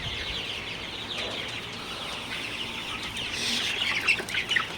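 Chickens being fed and watered on a small poultry farm in the morning cluck steadily and softly, with a busier burst of clucking and fluttering near the end.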